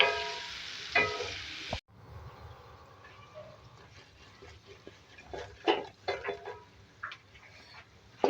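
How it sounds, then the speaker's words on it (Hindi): Bottle gourd (lauki) frying in a pan with spices, a soft steady sizzle beneath irregular scraping and stirring clatter of a spoon against the pan, close and moderately loud. "अब साथ में ये जो लौकी है ये डाल देंगे। फ्राई करेंगे इसके साथ।"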